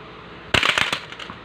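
Plastic ball crashing into a simple box built from magnetic construction toys, one sharp loud impact followed by a short clattering scatter of pieces that quickly dies away.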